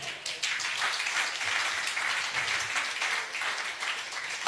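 A church congregation applauding, a steady dense wash of many hands clapping close and loud throughout, with no voices breaking through.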